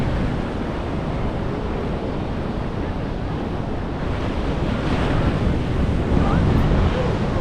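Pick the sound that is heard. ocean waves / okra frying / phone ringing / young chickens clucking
ocean waves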